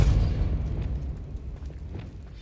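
The Depulso force spell is cast in Hogwarts Legacy, giving a deep, rumbling blast that hits hard at the start and then fades into a low, sustained roar with no speech over it.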